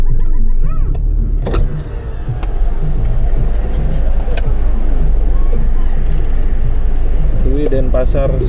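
A car passing on a Trans-Java toll road during a road trip, heard from inside a moving vehicle as a steady loud road and engine rumble, with people talking over it.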